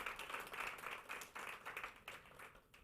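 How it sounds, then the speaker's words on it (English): Applause for competition winners at an innovation pitch showcase, a brief burst of many hands clapping in a hall, fairly faint and distant, tapering off toward the end. "please give another massive round of applause"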